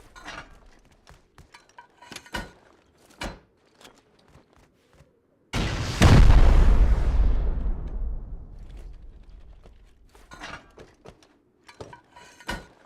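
A large explosion bursts in, loud and broad, then decays over several seconds in the Rust video game as HV rockets strike a base, with sparse clicks and small knocks before and after.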